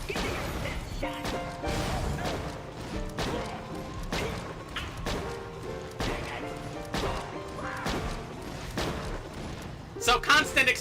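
Repeated Luck Cannon pistol shots and explosive bursts in Borderlands: The Pre-Sequel, loud punchy impacts every second or so, with talk running over the gunfire and a brighter burst near the end.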